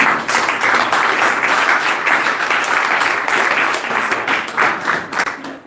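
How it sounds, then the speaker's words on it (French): A church congregation claps loudly and steadily during a worship service, dense applause rolling on for several seconds with slight swells before tapering off. "applaudissez pour vous les femmes"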